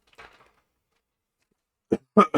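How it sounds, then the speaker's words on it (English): After a faint murmur and a stretch of silence, a short burst of close, harsh coughs comes at the end. "I apologize for this coughing"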